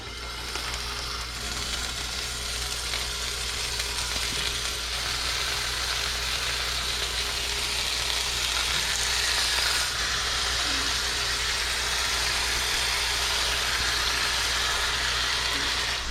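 Vietnamese pork chops with bits of lemongrass fry in a pan over medium heat, giving a steady, close sizzle that holds at an even level throughout with no talking.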